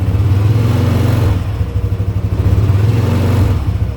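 A Yamaha Nmax scooter fitted with a Daytona clutch idles and gets light throttle blips, a steady mid-pitched engine hum with slight rough droning, close and alone.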